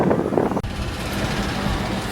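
Steady wind at the beach in Nazaré, Portugal, roars and buffets a microphone, a continuous rushing noise with a brief dropout partway through.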